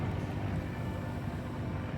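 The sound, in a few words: sailboat motoring under engine power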